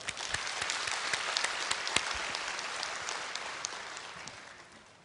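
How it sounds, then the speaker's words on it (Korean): A church congregation applauds to welcome a speaker at a Korean church service, dense steady clapping with a few sharper individual claps, fairly loud and tapering off near the end. "박수로 맞아주세요"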